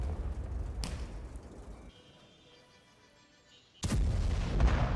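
A powerful bomb blast near a military headquarters in Quetta, Pakistan: two loud, sudden booming bursts, separated by a quieter stretch of a few seconds, with no voices.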